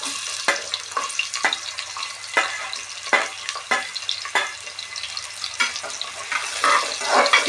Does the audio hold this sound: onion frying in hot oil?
yes